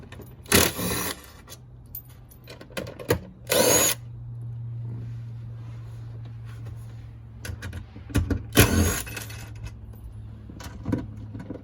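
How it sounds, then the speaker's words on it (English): An impact wrench with a 12mm socket removes third-row seat bolts in a Toyota Sienna, with several short loud rattling bursts separated by pauses, plus clinks of metal hardware and a low steady hum in between. "So I've got a 12mm socket on my impact wrench."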